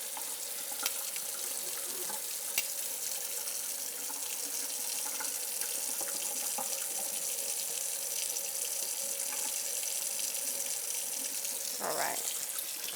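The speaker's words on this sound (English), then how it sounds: "I'm just going to pour some of this excess juice off of the chicken." Juice runs off a pan of baked honey lemon glazed chicken with a continuous, soft watery trickle, steady and close, with a brief louder splash near the end.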